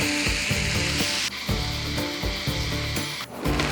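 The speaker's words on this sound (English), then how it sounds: "This is 7 minutes after we've started frying the rice." Steady crackling sizzle of glutinous rice frying in a hot pan, with repeated scraping and clattering from stirring, close and fairly loud throughout.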